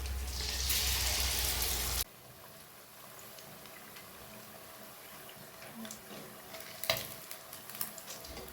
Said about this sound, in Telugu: ఈ ఎగ్ ఈ పిండిలో వేసుకొని డిప్ చేసుకొని ఆయిల్లో వేసుకోవాలి.